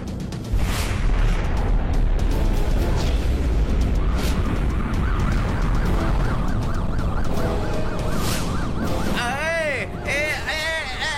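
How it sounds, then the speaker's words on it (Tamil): Rockets fire and explode in an action-film battle scene, a dense, loud, continuous roar of blasts and rumble. Shouting voices run over it, and warbling siren-like tones rise near the end. "ராக்கெட் மலை எங்க இருந்துப்பா இப்படி பொழியுது?"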